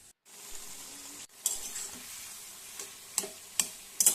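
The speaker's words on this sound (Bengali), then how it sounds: "এবার আবার একবার নাড়াচাড়া করে একটুখানি খুন্তির সাহায্যে আলু আর মূলোটাকে একটু ম্যাশ করে দিচ্ছি" Potato and radish cooked for a poppy-seed dish are stirred and mashed with a metal spatula in a pan, a faint low sizzle broken by a few sharp scrapes and taps near the end.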